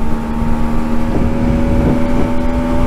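A 125cc Century motorcycle rides through traffic at about 90 km/h, its engine a steady close drone with a constant tone under rushing wind buffeting the microphone; no one speaks.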